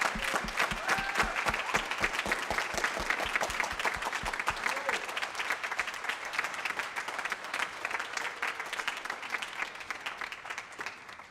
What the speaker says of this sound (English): how about a great big round of applause for these special kids up here on stage?